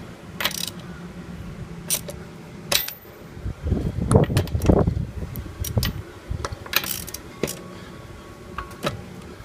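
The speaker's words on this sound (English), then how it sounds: "we'll get our regular ratchet and go ahead and finish loose taking off the rim and tire" Close ratchet clicks sound in short, uneven bursts as lug nuts are loosened on the wheel of a raised 2008 Lexus RX350 in a garage, with a denser spell of rattling metal clatter in the middle.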